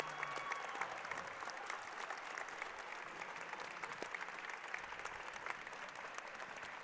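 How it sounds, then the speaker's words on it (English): At a high school basketball game between Elizabethton and Sullivan East, a gym crowd applauds a ladies state championship team with steady, dense, distant-sounding clapping that holds evenly throughout. "please join me in a round of applause for our 2014 Ladies Cyclone State Championship team"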